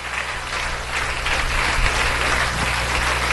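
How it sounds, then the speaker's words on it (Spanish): A church congregation applauds visiting ministry members during a service, producing a sustained wash of clapping that swells slightly and stays steady, fairly loud and close, with no voices over it. "Les damos un aplauso a nuestros hermanos"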